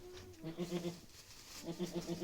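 Goat kids bleat in a barn, quiet and somewhat distant, giving a few short, repeated wavering cries in two bursts.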